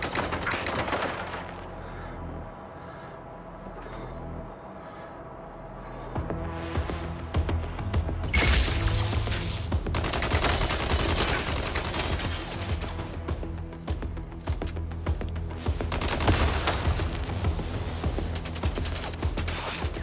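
Gunfire in the video game MindsEye: a quieter stretch with layered game music gives way around the middle to loud, dense, sustained bursts of shooting and impacts that continue to the end, with no talking.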